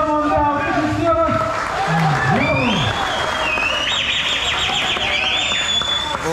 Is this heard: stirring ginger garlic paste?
no